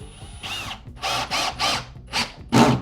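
A power drill drives 2.5-inch back screws through a wooden mantel into a wall stud, whirring in several short bursts separated by brief pauses, close and fairly loud, the last burst heaviest as the screw seats.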